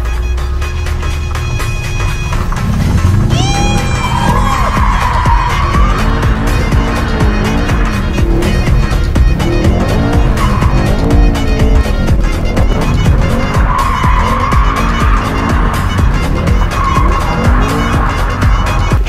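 A Mercedes-AMG GT drifts at a roundabout, its engine revving hard and rising and falling while the tires squeal loudly and almost without pause up close.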